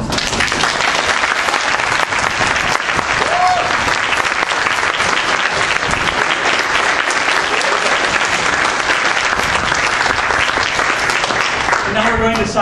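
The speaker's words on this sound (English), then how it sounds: "How about some applause?" Applause at a wedding ceremony, dense continuous clapping from a full room filling the whole stretch at steady loudness, with a few cheers mixed in.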